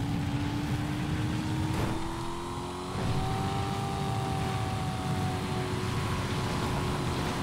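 An old Coquette D1 sports car engine in GTA 5 drones steadily and loudly, its pitch climbing smoothly through a gear change with a brief dip, with no talking over it.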